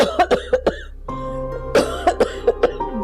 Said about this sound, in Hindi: जी उन्हें खांसी का दौरा पड़ा है।